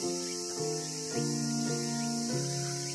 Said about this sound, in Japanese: セミが鳴いています。